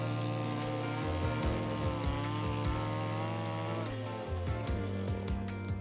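Chainsaw running steadily while felling trees to clear land around a remote cabin, with a continuous buzzing drone whose pitch dips several times as the chain bites into wood, close and loud throughout.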